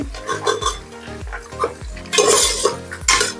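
Two long-sliced onions tipped into a pan for ghee rice, with clanking of utensil against the pan and light stirring scrapes in uneven bursts, a faint sizzle rising near the end.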